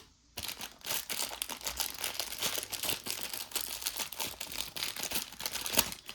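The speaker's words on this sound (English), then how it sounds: "get the tape out of its packaging" Roll of tape being pulled out of crinkly plastic packaging, a continuous close rustle of crackling and crumpling with a few sharper crinkles, steady throughout and without speech.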